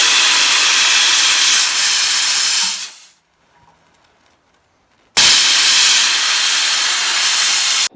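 A loud, steady jet of steam hisses over a jewelry chain extender for about three seconds, cuts off into near silence, then blasts again just as strongly.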